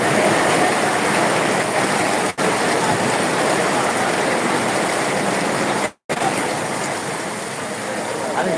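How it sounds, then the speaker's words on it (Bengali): Heavy monsoon rain pours in a loud, unbroken roaring wash, close and constant, with two brief dropouts where the sound cuts out. "নতুন উদ্যমে বৃষ্টি শুরু হয়েছে আপনারা দেখছেন রহমতের বৃষ্টি"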